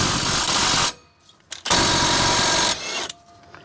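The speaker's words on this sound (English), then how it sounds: "Now this is the 2960 Milwaukee with a Tecton impact wobble" A Milwaukee 2960 impact wrench with a wobble extension hammers at a 21 mm brake bolt on a Mercedes-Benz Sprinter 2500 van, two loud rattling bursts split by a short pause with faint clanks.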